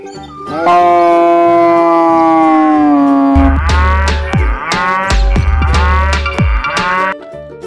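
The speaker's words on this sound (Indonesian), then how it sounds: "Wih, kita menemukan kerbau teman-teman." A grey water buffalo in a video game gives a long, loud, drawn-out moo followed by a series of shorter lowing calls, close and clear with no talking.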